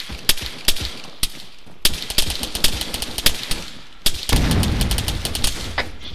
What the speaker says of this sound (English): Who's shooting that thing on full auto?